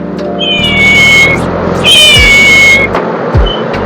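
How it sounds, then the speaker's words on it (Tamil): A toy cat gives out two electronic meows, each a clear rising-and-falling synthetic mew, loud and close, with brief clicks between them and no talking. "இந்த மாதிரி கேட் வித் சவுண்டு இந்த மாதிரி வரும்"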